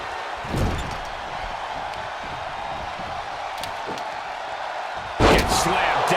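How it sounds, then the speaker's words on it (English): A wrestler is slammed down in a wrestling video game, giving a sharp loud thud late on over a steady arena crowd roar, with an earlier fainter impact near the start. "Gets slammed down."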